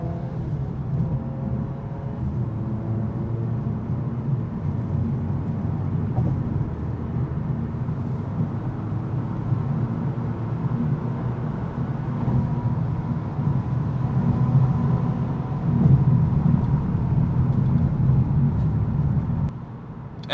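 Interior of a 2024 Volkswagen Golf R in comfort mode merging onto a highway: a steady low engine and road rumble with some tire noise, building slightly toward the end, with no talking.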